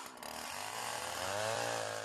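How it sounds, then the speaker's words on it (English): A chainsaw cutting through ice, its motor whining loud and close at a steady high pitch, rising slightly as the blade bites, with no one talking. "chainsaw will be the quickest way of cutting through to an answer"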